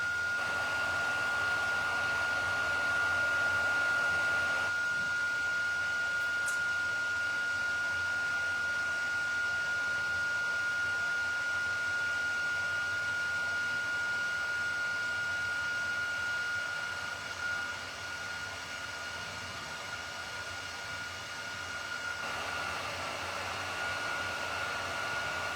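A handheld heat embossing tool blows hot air in a steady, moderate whoosh with a faint whine, running continuously throughout with no talk over it.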